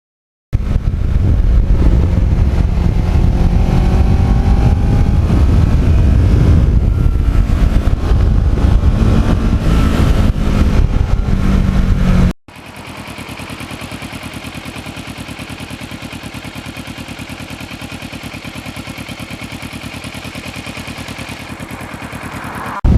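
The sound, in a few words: Ninja motorcycle with uneven firing twin engine running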